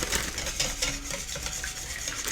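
Flour being whisked into an egg and milk mixture for crepe batter, a quick continuous rhythm of whisk strokes scraping and tapping inside the bowl, close and fairly loud, with no one talking.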